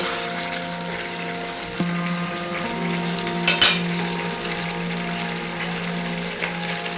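Bengali mutton kosha frying in a pan as cut potatoes go in: a steady sizzle with a brief clatter and splash of the potatoes landing midway.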